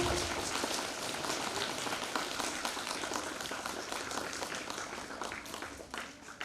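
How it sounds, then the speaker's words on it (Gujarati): Applause at a primary school Republic Day celebration as two guests are welcomed onto the stage, a dense, fairly distant patter of many hands clapping, sustained and even throughout. "બધાએ એમને તાળીઓના ગડગડાટથી વધાવીશું."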